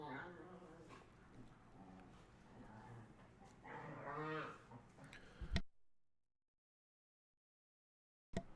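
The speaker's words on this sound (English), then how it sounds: "My dogs are over there play fighting," Several dogs play fighting nearby, a run of goofy growls, whines and yips mixed with background talk, then the sound cuts out to silence.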